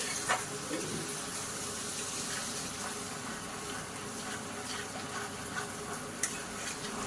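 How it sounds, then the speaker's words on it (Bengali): Spice paste with yogurt sizzling and being stirred in a wok while cooking stuffed aloo dum, a steady close frying hiss with faint scraping. "দেখুন কড়াই তেল ছেড়ে দিয়েছে কি সুন্দর কষা হয়ে গেছে"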